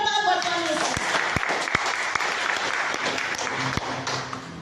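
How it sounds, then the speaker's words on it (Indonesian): Congregation applause in a church service at Puncak Kana Cipanas, a broad wash of clapping with a few sharp, distinct claps standing out near the front, continuing steadily while voices murmur underneath. "Beri tepuk tangan buat kami"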